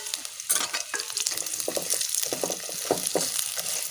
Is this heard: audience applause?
no